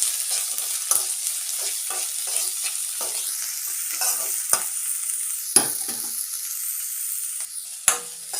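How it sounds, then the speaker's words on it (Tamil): Onions fry in oil with a steady sizzle while a spoon stirs them, scraping and knocking against the pan in irregular strokes, close up, with no voices. "வெங்காயம் சேர்த்துக்கலாம்."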